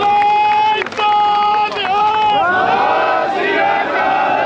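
A crowd at a farmers' and labourers' protest sit-in in Batala roars with loud, massed cheering and slogan-like shouts that swell and carry on steadily, with voices rising over one another.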